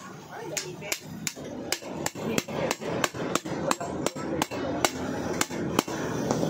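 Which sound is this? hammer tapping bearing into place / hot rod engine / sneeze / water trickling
hammer tapping bearing into place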